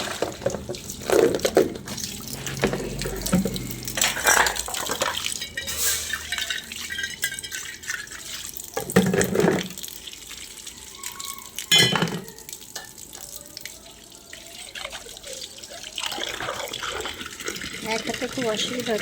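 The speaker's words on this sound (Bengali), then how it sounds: "চলো আজকে তোমাদের সাথে শেয়ার করি বাসন ধোয়া।" Dishes being washed by hand under a running kitchen tap, with water splashing, clinking pots and pans, and scrubbing sounds mixed with occasional speech in between.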